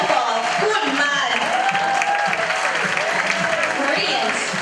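An audience at a camogie club fashion show claps and cheers in a steady wash of applause that fills the room, with a voice speaking over it.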